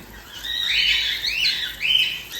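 Pet cockatiels squawk and chirp in bright, rising calls during a bath, near and fairly loud, over a soft watery hiss.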